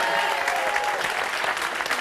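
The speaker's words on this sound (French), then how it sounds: "On peut l'applaudir très, très fort, Elisabeth." A studio audience on a French television magic show claps loudly for a magician, a brief, dense burst of applause held at full strength.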